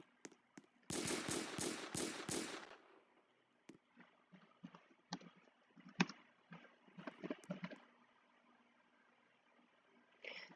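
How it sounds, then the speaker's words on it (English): Rapid burst of video game gunfire, a loud automatic volley of closely spaced shots lasting about two seconds, then scattered quieter clicks and impacts with no talk. "I'm gonna shoot her"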